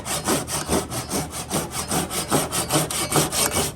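Hand saw working a kerf into a wooden axe handle, steady back-and-forth strokes in an even rhythm, close and fairly loud with no talking.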